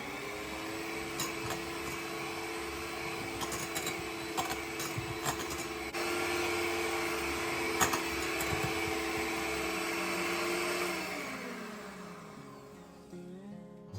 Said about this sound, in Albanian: Do ta rrahim përsëri me mikser për disa minuta të tjera.